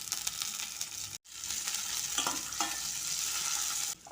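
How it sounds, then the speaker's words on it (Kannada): Pistachios, cashews and raisins fry in ghee with a steady, close sizzle and crackle, broken by a brief silent gap early on and cut off near the end. "ಪಿಸ್ತಾ ಕ್ಯಾಶ್ಯೂ ಹುರ್ಕೋತಾ ಇರಬೇಕಾದ್ರೆ ಒಣ ದ್ರಾಕ್ಷಿ ಹಾಕ್ತಾ ಇದ್ದೀನಿ"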